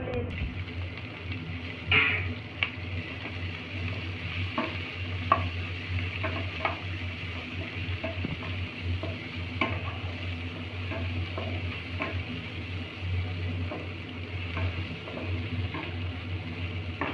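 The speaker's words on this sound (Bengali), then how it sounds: "তো আমি একটু তেলের ভেতরে একটু জিরে দিয়ে দিচ্ছি।" Cumin seeds frying in hot oil for a home-cooked mutton recipe, a steady low sizzle with occasional stirring clinks and scrapes, close and continuous throughout.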